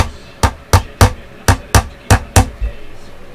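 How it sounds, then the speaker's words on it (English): A small brass hammer lightly taps the frets of a Jackson Warrior guitar in a workshop, giving seven crisp, evenly spaced metallic ticks that sound close and fairly loud, with no talking. "I'll take the brass hammer and just kind of lightly tap them."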